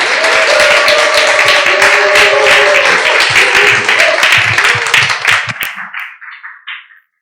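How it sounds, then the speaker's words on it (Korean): An audience at a Korean forum and family evening claps loudly to welcome a lecturer, dense sustained applause with some voices mixed in, thinning to scattered claps before stopping. "우리 조촐하지만 열렬한 박수로 큰 함성으로 환영하도록 하겠습니다."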